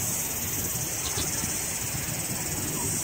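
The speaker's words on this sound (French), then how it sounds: "j'ai l'impression d'entendre les cigales" Cicadas in Browns Bay, New Zealand, keep up a steady, high-pitched shrill buzzing that drones continuously without pause under faint background noise.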